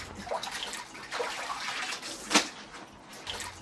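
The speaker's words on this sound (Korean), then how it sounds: "세 번째 헹굼에서는 깨끗한 물에 배추 전체를 한 번 더 헹군 후" Napa cabbage is rinsed in clean water for kimchi. Soft splashing and sloshing comes in uneven surges, with one sharper splash partway through. It is fairly quiet and close, and there is no talking.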